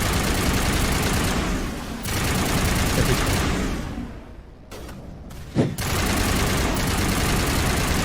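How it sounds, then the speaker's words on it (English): Sustained automatic gunfire rattles loud and near in the shooter Mass Effect Legendary Edition, long continuous bursts broken by brief pauses and a sharp impact. "the only thing we can do whilst he's got this fortification up is just shoot him until it drops"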